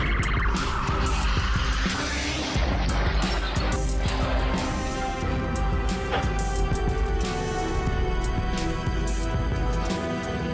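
Luxury cars at a dimly lit night intersection: sustained loud tire squeal and skidding with roaring engine noise, a dense, continuous wash of sound throughout.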